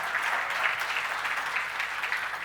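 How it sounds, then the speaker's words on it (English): Steady audience applause with dense, even clapping filling the whole stretch, moderately loud and without pauses. "I'd give you all selves a nice round of applause."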